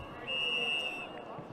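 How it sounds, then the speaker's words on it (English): A referee's whistle sounds at an outdoor ultimate frisbee match, one steady, shrill blast lasting nearly a second, at moderate distance over crowd murmur and commentary. "See the second whistle going up"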